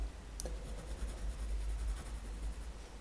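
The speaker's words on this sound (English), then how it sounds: "Still using my HB pencil." HB graphite pencil shading across drawing paper, a soft continuous scratchy rasp close up and quiet, with one small tap near the start and no talking.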